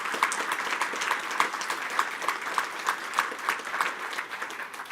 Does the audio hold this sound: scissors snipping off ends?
no